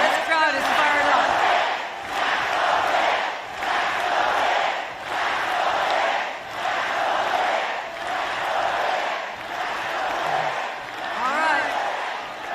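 A political rally crowd in New York cheers and shouts loudly and without a break, swelling in waves about every one and a half seconds, with whoops and yells rising from the roar.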